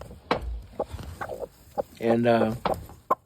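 A big, rugged hen clucks near the microphone in a few short bursts, with one longer harmonic call in the middle, while a person talks over and between the calls.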